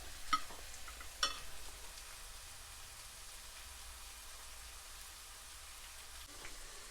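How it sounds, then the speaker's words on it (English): Brown stew pork simmering and cooking down in a pot with ketchup and oyster sauce, a soft steady bubbling hiss with a couple of faint clinks early on, low and continuous with no voices. "Yes guys, this is cooking down nicely."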